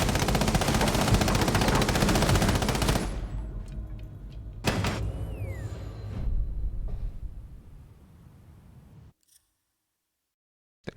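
A light machine gun in a video game fires a dense, rapid burst for about three seconds, followed by mechanical reload clacks and sliding metal sounds, then fading to silence.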